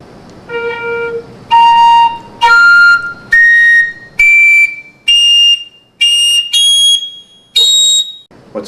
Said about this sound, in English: Let's play the penny whistle again.